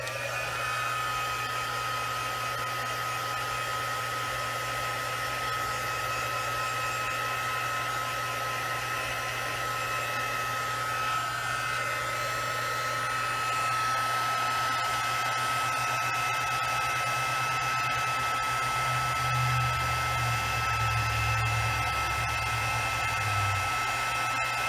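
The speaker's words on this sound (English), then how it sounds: "now I've got my Stampin' Up! Heat tool. I'm going to go ahead and heat this up to set that embossing powder." A Stampin' Up! heat tool blows steadily and fairly loudly to set embossing powder, a continuous hair-dryer-like whoosh running for the whole stretch with no talking.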